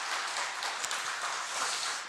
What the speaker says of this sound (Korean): 여러분 좀 큰 박수로 좀 환영해 주시면 감사하겠습니다